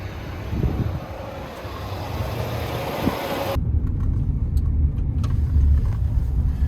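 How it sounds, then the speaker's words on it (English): A Fendt 1038 tractor hauling a SeedMaster drill rolls along a gravel road with a steady, low engine drone and rumble plus broad wind noise, heard from inside the cab. "The gravel roads are nice because we can go pretty fast with those Fendt tractors"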